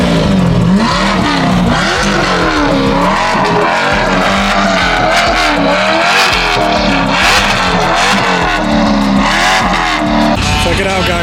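A Corvette C8 sports car revs hard at a busy car meet, loud and continuous with repeated surging throttle blips over crowd noise and other engines, with voices talking through it.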